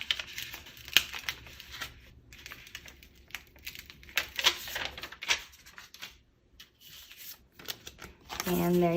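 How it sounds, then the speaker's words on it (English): Transfer tape backing is peeled from layered craft vinyl in crackling, papery bursts, close and uneven, with a person talking over it and a tonal sound at the end. "you pull the backing of the transfer tape away from your vinyl"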